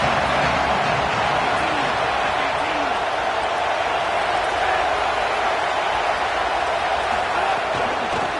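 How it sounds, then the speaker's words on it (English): A home crowd roars steadily at a college football game between Miami and BYU, a dense, loud stadium wash of cheering that never lets up across the whole stretch. "how nice is it to have the home crowd going absolutely bananas?"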